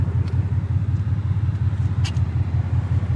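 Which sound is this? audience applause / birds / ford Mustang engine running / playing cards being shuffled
ford Mustang engine running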